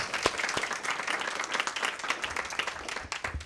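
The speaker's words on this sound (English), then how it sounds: "join me in giving one final round of applause for all three of our students" An audience at a state board of education meeting applauds three students, a dense steady patter of many hands clapping throughout, with a few sharper nearby claps standing out.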